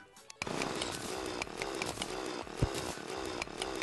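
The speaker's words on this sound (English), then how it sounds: "So the thing about this drill is, like, I don't quite know where I'm drilling." A mining drill in the video game Terraria, worked during hardmode mining, gives a continuous raspy, chainsaw-like buzz that runs steadily and loudly for several seconds after a short quiet start.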